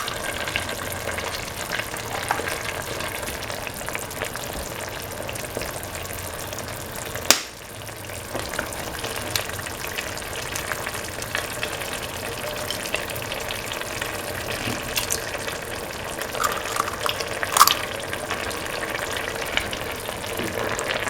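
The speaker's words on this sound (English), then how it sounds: "Let the eggs cook for around 30 seconds." Two eggs sizzle in a pan of chickpea, coconut milk and rice mixture, a steady frying hiss with a sharp clack around the middle and a few small pops, no voices.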